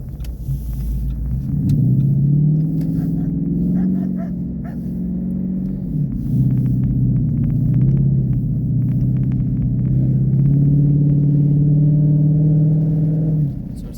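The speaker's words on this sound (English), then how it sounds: "Then there's nothing, so we'll do a nice power slide." A 2016 Ford Mustang GT V8 on Bridgestone Blizzak WS90 winter tires power-slides over snow and ice at -20 degrees, its engine droning loud and close, rising and dipping with throttle in long sustained pulls.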